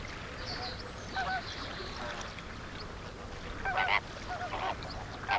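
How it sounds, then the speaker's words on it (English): Flamingos in the Ebro Delta give honking, goose-like calls in scattered bursts over a steady outdoor wash, louder clusters arriving near the end. "the Flamingo."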